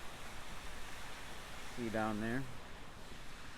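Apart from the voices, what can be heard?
fountain waterfall cascading down to a river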